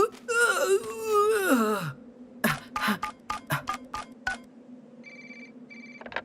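A cartoon telephone rings for a lifeline call, short repeated electronic ring bursts near the end, preceded by a wailing voice and scattered clicks.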